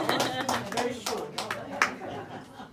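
Scattered clapping from a cabaret audience, a handful of uneven hand claps mixed with a voice talking over them.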